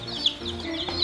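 Baby chicks bought from a feed store peep and cheep repeatedly in a steady chorus, with a low hum underneath.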